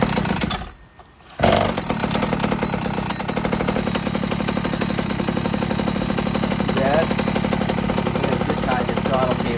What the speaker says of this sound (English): So at least I can control the idle now.